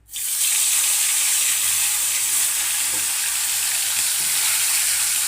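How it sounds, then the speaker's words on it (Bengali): Fish pieces dropped into hot oil for a Bengali fish curry, a loud sudden hiss that settles into a continuous, close, intense sizzle with faint stirring, no talking. "আগে আমি মাছটা ভেজে নেব অল্প অল্প করে দিয়ে ভাজবো"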